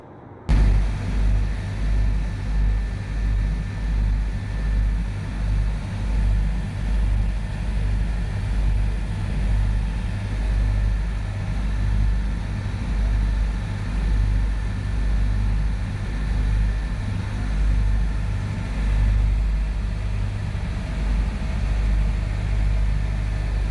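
Steady low diesel drone of a ferry boat engine on the crossing from Ernakulam to Vypeen jetty, with a constant rumbling throb and slight pulsing, loud and close throughout with no talking.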